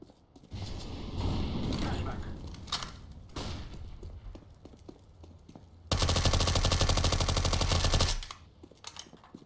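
Gunfire in the video game CS:GO, coming in several separate volleys of rapid automatic shots, the longest and loudest near the end, with single thuds in between and voices talking at times.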